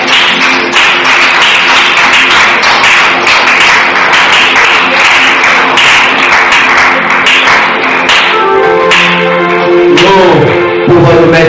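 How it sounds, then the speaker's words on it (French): A church congregation applauds, loud and close, in a steady dense wash of clapping. Near the end the clapping gives way to sustained tones. "Nous acclamons encore le Seigneur"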